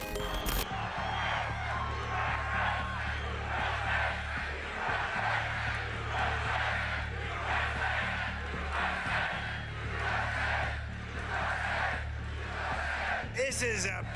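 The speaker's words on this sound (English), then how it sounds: "This is a big, beautiful crowd." Large crowd at a Trump rally in Pennsylvania, a steady dense roar of many voices shouting and cheering throughout, with low rumbling hum underneath and a burst of louder noise near the end.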